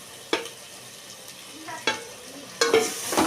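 Tomatoes and onions for a country chicken curry fry in a pan, sizzling softly while a spoon scrapes and stirs in three distinct bursts, close and fairly quiet.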